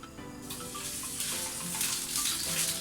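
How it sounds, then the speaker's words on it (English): Spam slices searing in a ripping hot pan, a steady broadband sizzle with crackling spits running continuously and fairly loud, close to the pan, with no talk over it. "we're going to get a pan ripping hot, because we basically just need to sear our spam on each side"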